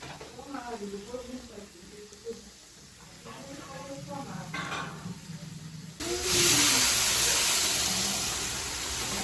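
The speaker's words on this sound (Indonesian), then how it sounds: "Nah gini nasinya itu digoreng dulu sama bumbu yang tadi ditumis." Rice frying in a pan together with spices sautéed beforehand, a soft hiss running under talk that turns into a loud, steady sizzle near the end.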